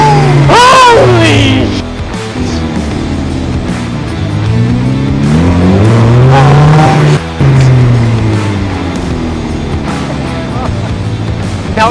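A DF Goblin kit car accelerating at about half throttle, engine note rising loudly and up close, then easing and climbing again, with people talking over it.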